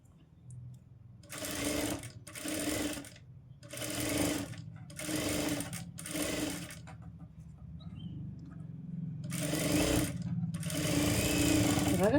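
Stitching a blouse side seam, a sewing machine runs in loud bursts of about a second each, separated by short pauses, with a low murmur underneath and a longer run near the end.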